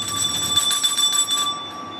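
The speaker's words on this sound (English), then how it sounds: "The bell is quite a new thing." A bell rings at a zoo enclosure to call a Komodo dragon for food, a steady bright tone with quick repeated strikes lasting about two seconds, fairly close, with no talking.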